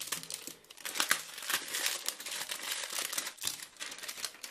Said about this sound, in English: Just peeling off the plastic.